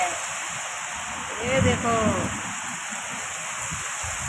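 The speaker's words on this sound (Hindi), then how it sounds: "झमाझम बारिश, और आंधी देखो कैसे चल रही है" Heavy rain driven by strong wind, a steady broadband wash of downpour and gusts holding throughout at moderate loudness, with someone speaking briefly over it in the middle.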